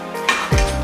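A cooking pan being swapped for a larger one while mussel black bean pasta is made, heard as a brief metallic scrape and clank followed by a low thud as the pan is set down, with no talking.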